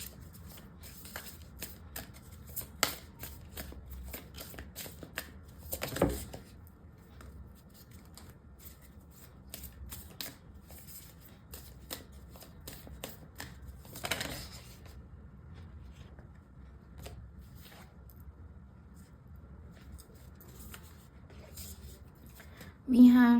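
Oracle cards from a Moonology deck being shuffled by hand, a soft, steady riffling and rustling that runs throughout at close range, with a few louder bursts of handling.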